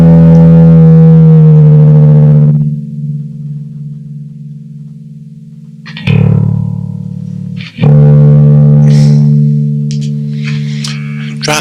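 A 2010 Ernie Ball MusicMan Stingray Classic 4 bass guitar in drop D tuning, played through an overdrive circuit: loud sustained low notes that ring out and decay, then two fresh attacks that sustain again, with no talking.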